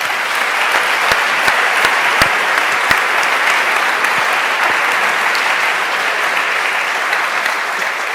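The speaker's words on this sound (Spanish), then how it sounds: "Ahora quisiera pedir un fuerte aplauso para nuestros dos ponentes" Conference audience at an AI and big data congress applauding two speakers, a loud, continuous roar of clapping with scattered sharper claps, sustained throughout.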